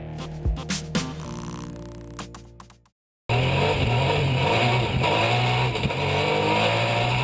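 A race car engine at the Pikes Peak hill climb revs in sharp bursts, cuts out briefly, then returns as a loud sustained onboard roar; no talk.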